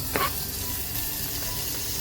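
Tomato fries with chopped onion in a pan for a homemade chickpea usal, giving a steady, close sizzle with a brief utensil clink near the start.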